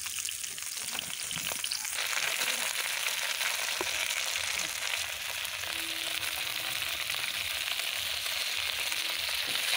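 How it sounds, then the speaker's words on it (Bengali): Sliced pointed gourd (potol) frying in hot oil in a pan, giving a steady, close, continuous sizzle with faint stirring scrapes and no talking. "এখন আমি কিন্তু সুন্দর করে কেটে রাখা পটলগুলো ভেজে নেব।"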